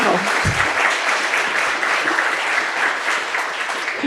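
Audience applause at a panel event, loud, dense clapping filling the whole stretch at an even level with no voices over it.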